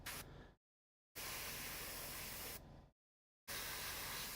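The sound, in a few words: spray painting with white paint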